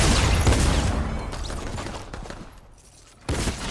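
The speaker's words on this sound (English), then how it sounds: "You shot Pilly, he shot at me in the third." Gunfire crackles in a Fortnite Team Rumble match, a dense burst of shots that thins out and fades, then one more sharp report near the end.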